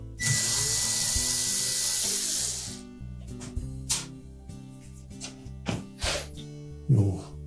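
Screws being removed from the control box mounting bracket on a Whirlpool range: a hiss of a powered driver at the start, then a run of scattered close clicks and small metallic knocks.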